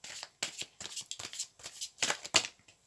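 Tarot cards riffled and drawn in a run of quick papery flutters and snaps, close and fairly quiet, with no voice over them.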